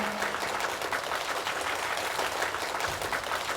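A crowd claps steadily in a dense, continuous wash of applause for Mr. Garris, the celebrated dessert king, as he is introduced at the final of a cooking competition.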